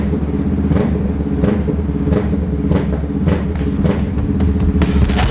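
A Honda Rebel 500 motorcycle engine revs close by in a steady, throbbing rumble, with short throttle blips that rise and fall over the idle.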